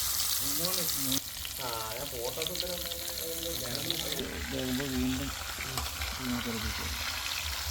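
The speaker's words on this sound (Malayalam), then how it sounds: "വറുത്ത് ചൂടോടെ കഴിച്ചോണ്ടിരിക്കണേ കുറച്ച് കുറച്ച്" Tilapia fish frying in hot coconut oil, a steady loud sizzle and crackle running the whole time beneath a person talking.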